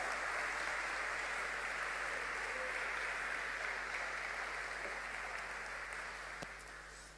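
A church congregation gives sustained applause during a sermon, a steady, far-off wash of many clapping hands that holds evenly and then tapers off at the end, with no voices over it.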